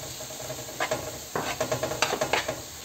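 Chopped garlic tipped into a hot pan of frying onion and nopales, sizzling steadily with a run of scrapes and stirring clatters from a utensil, close and fairly loud, with no talking.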